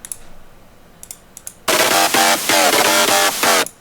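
An electro house FM synth lead built in Serum with a noise layer plays a loud, bright, buzzy riff of short chopped notes in bursts after faint clicks at the start.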